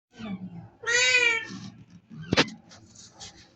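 A cat meows loudly, one long drawn-out call followed by shorter cries, close by, while people talk around it.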